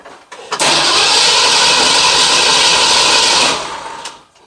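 An engine cranks and catches, then runs loud and steady for about three seconds before its revs drop away and it cuts out, with a brief rise just before silence.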